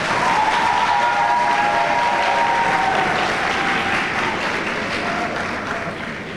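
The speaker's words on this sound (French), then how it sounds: "On peut l'applaudir quand même." Sustained applause from a large audience at the opening speech of a communicators' day event, a dense, loud wash of clapping that carries steadily throughout and tapers slightly toward the end.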